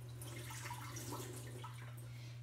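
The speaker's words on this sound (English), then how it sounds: "I'm going to just drain the water out." Water drains from soaked cashews into a sink, a soft continuous trickle and splash heard up close over a steady low electrical hum, with no speech.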